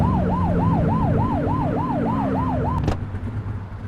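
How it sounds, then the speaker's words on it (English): A police car siren wails in a rapid, repeating yelp over a running car engine in The Precinct video game, loud and close before cutting off abruptly. "Get on that tail and flip the siren"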